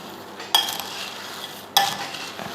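A spoon scrapes and stirs an almond crunchy mixture in a pan, with two sharp clattering strokes followed by softer rustling and light frying sizzle.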